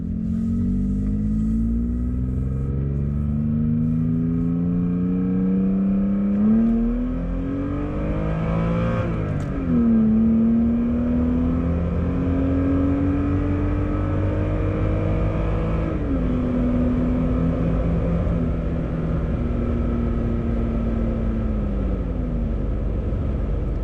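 A 2017 Toyota Tacoma TRD Off-Road with an MBRP turndown exhaust revs repeatedly, its engine note rising and falling in several climbs and drops over a steady, loud, close idle rumble, with no voices.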